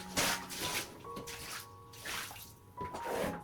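Water splashes in bursts across bathroom walls and floor during a clean rinse, a few separate pours and sprays close by, fairly quiet.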